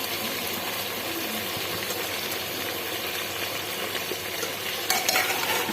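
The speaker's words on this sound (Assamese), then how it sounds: "এতিয়া মই মাংসখিনি আকৌ লৰাই দিছোঁ।" Goat meat frying with tomatoes in a pan, stirred with continuous sizzling and hissing at moderate volume, plus a sharper clatter of the spoon near the end.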